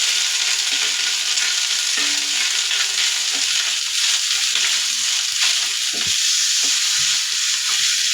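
Ginger, garlic and turmeric pastes hit browned onions in hot oil, giving a loud, steady sizzle and hiss with occasional scraping stirs throughout.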